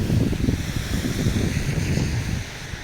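Wind blows outdoors during a February walking tour of shops and hotels in Medjugorje, a loud, steady buffeting rush close on the microphone, easing slightly near the end.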